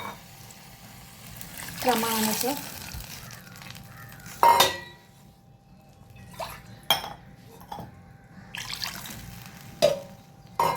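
Water is poured into a pan of roasted spices and rice for jeera rice, with a brief splash and several metallic clinks of utensils against the pan. A voice speaks briefly.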